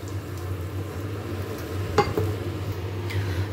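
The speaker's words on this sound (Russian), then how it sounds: "Выливаю уже томат, потому что уже начинает поджариваться." Tomato paste poured into a pan of sautéed vegetables for a meatball sauce, frying with a steady low sizzle and soft stirring scrapes, plus one brighter clink of utensil against the pan midway; no talk.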